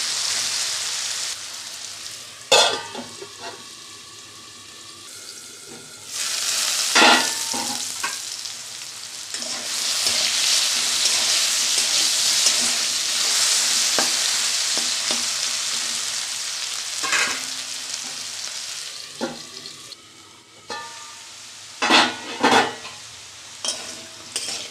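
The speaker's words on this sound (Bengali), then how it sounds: "আলুটা বাঁধাকপির জন্য ভেজে নিচ্ছি" Potatoes seasoned with salt and turmeric fry in a pan for a cabbage curry, giving a loud, steady sizzle broken by bursts of stirring and scraping.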